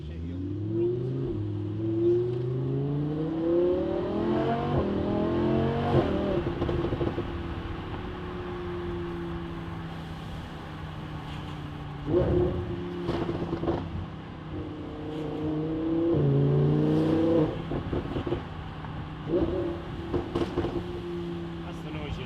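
Lamborghini Huracan fitted with a full custom exhaust revs repeatedly nearby, sharp rising blips and crackles between a steady idle rumble, with people talking over it at times.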